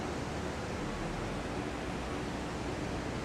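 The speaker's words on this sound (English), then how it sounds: "You always hear about a place like this, about Niagara Falls" Steady, dense roar of Niagara Falls, a broad unbroken rush of falling water that fills the whole clip at an even, loud level with no pauses.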